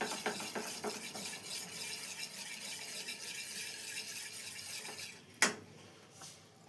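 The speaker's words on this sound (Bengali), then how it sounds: "এবার এটা খুব ভালো মতো মিলিয়ে নেব" Appam batter is stirred after baking soda is added, giving soft, continuous scraping and swishing in a bowl, fairly quiet and close, with a sharper clink of utensil near the end.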